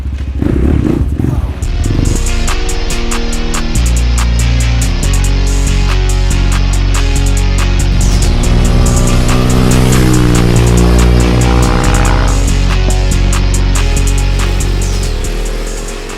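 A Rottor motorcycle is ridden along a road, its engine loud and close with repeated revving that rises and falls in pitch, accompanied by steady mechanical clatter and wind noise throughout.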